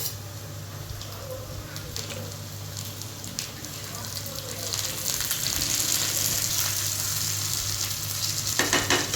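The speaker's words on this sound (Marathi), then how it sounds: "आपलं खोबरं पण छान भाजत आलेलं आहे" Grated coconut roasts in a pan for chicken sukka, a steady sizzle and crackle under occasional stirring that grows a bit louder toward the end, with a low background hum.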